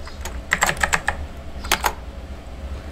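Java code being typed on a computer keyboard to run a binary search program: a quick run of close, crisp keystrokes, a pause, then a few more taps over a low background hum.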